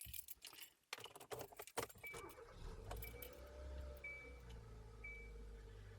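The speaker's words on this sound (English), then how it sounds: "before I start the car" A car is started with its keys: keys jangle, a brief crank follows, and then the engine settles into a steady idle hum, recorded up close inside the vehicle with no talking.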